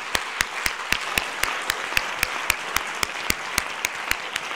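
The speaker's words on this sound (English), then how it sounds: "let's give a round of applause for our panelists." A small conference audience at a music-scene summit claps for the panelists, with sharp, fairly regular individual claps standing out in a close, steady rhythm for the whole stretch.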